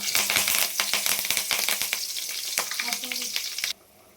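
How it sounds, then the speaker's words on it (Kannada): Cumin seeds, cinnamon sticks and curry leaves sizzle loudly in hot oil for a chicken gravy, a dense crackling hiss with sharp pops and a few stirring clicks, then cutting off abruptly near the end. "ಎಣ್ಣೆ ಸ್ವಲ್ಪ ಕಾದ್ಮೇಲೆ ಒಂದು ಅರ್ಧ ಸ್ಪೂನಷ್ಟು ಜೀರಿಗೆ ಹಾಕಿ, 1-2 ಚಕ್ಕೆ, ಕರಿಬೇವು ಸ್ವಲ್ಪ"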